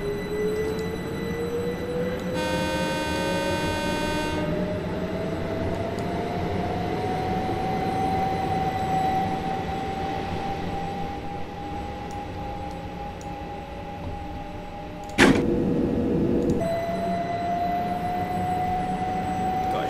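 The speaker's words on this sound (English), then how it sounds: "Now the train will depart." An electric train pulls away from platform 4 at Willesden Junction toward London Euston in Train Simulator 2019, its motor whine climbing steadily in pitch over a constant rumble, with one sharp loud bang near the end.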